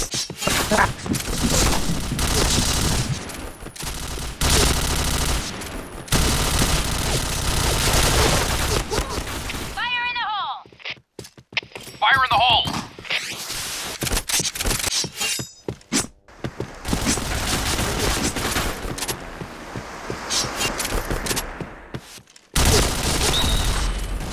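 Machine gun fire crackles in loud, dense bursts during frantic game play, with sharp impacts and breaking sounds, brief quiet gaps, and voices talking intermittently over it.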